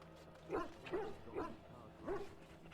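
An attack dog in the Dragon Age: Origins video game barks four times at a measured pace, each bark a short, fairly quiet woof over a low background hum.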